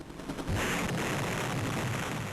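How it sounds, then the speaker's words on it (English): A crunchy, noisy explosion effect from the Game Boy Color game Perfect Dark bursts in and holds as a loud, sustained broadband roar with no talk over it. "Sick explosion effect."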